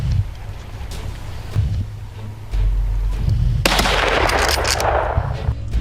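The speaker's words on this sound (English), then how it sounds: "Gunshots rang out continuously." Rapid gunfire crackles during a wild boar hunt, bursts of shots repeating continuously and loudly outdoors, with a sharper, louder stretch of firing in the second half.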